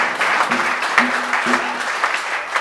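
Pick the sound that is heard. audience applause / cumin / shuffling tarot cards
audience applause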